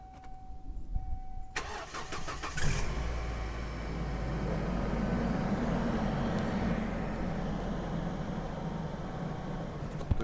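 A car engine cranks with a brief stuttering starter burst, catches, and settles into a steady low idle that hums on close by, with no voices.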